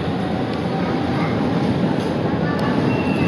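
A train arriving at Reeperbahn station in Hamburg, a continuous loud rumble and rolling roar filling the platform, steady throughout with faint higher squeals.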